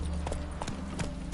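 Quick, steady hoofbeats of a galloping horse in The Witcher 3, a close rhythmic clip-clop over low game ambience.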